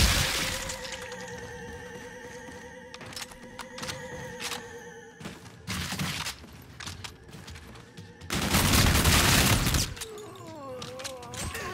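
Video game gunfire aimed at a small UFO in a zombie shooter set in a space-themed amusement park, bursts of loud sharp shots and cracks in uneven clusters over tonal game music and effects, with a dense, heavy barrage near the end.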